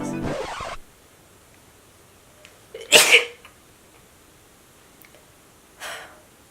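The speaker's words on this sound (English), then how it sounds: "I gotta sneeze." A single sharp, close sneeze bursts out in a quiet room, preceded by a brief noisy sound and followed by a faint breath.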